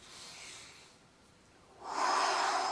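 A slow inhale during tai chi practice, soft and airy at first, fading briefly, then swelling into a fuller, louder breath near the end, close and alone without talk.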